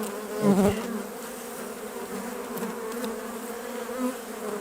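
Honey bees fill the air with a dense, continuous buzzing hum as a colony is moved from a small nucleus hive into a full-size hive at a Fressines apiary, steady and close with a slight swell near the start.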